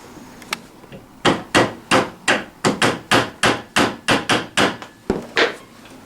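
Hammer blows strike a bolt during assembly of a Tao Tao CY50A 50cc scooter, about fourteen sharp, evenly spaced metallic whacks that come close and loud after a couple of lighter taps, with no talk.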